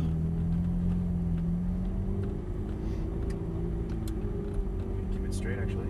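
Ferrari F430 sports car idling and pulling away gently on a race track, a steady loud low engine rumble throughout with a slight pitch rise, while a person talks over it.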